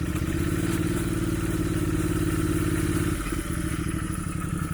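A turbocharged Royal Enfield Interceptor 650 on its stand runs steadily in fourth gear, a loud, even mid-pitched engine drone with mechanical clatter that dips briefly and shifts tone partway through.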